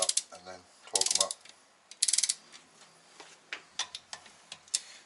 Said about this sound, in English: The only reason I'm using the torque wrench on this is I don't want to over torque the cam cap below it